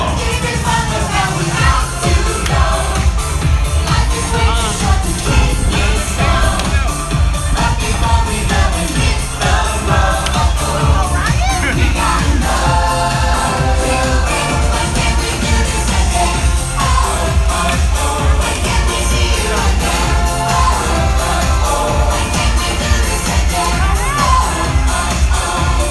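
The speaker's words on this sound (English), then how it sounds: "Give yourselves another round of applause" Crowd at Magic Kingdom cheering and whooping loudly and continuously under dense music, with a voice talking over the din.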